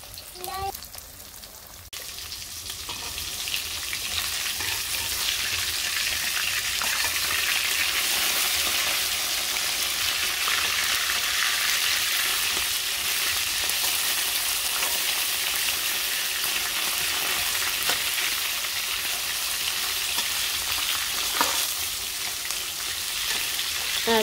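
Fish hits hot oil in a wok in a village kitchen, a dense, loud, continuous sizzle swelling after a brief quieter start and holding steady close by, with no speech over it.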